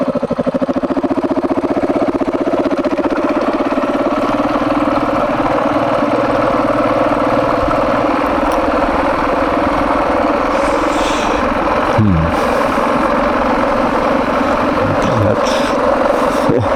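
A motorcycle engine runs steadily at idle, loud and close, a continuous low throb that holds through most of the stretch, with a couple of brief pitch sweeps suggesting light revs near the end.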